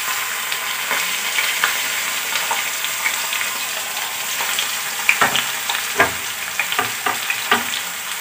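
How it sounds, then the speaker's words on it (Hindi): Onions fry in hot oil in a kadai, a continuous close sizzle punctuated by scraping and stirring clicks that grow busier toward the end. "तो ये कढ़ाई गर्म हो चुका है और हम इसमें डालेंगे प्याज।"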